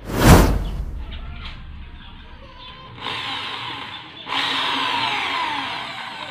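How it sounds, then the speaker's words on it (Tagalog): An electric drill whirs in short bursts after a sharp knock, working on a Wave 125 motorcycle hub, the motor buzzing steadily at moderate volume with brief pauses between runs. "Nakahanda na yung gagamitin kong barena at yung mga talim niya."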